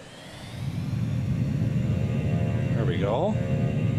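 Airliners taking off in the Transport Fever simulation game, a rising, steady engine rumble and whir that swells and holds, with a brief sweeping tonal glide near the end, under a voice.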